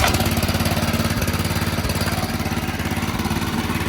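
A 6.5hp Honda gas engine driving a friction-drive bicycle, a loud close rapid rattling putter held at steady revs throughout, with no voices.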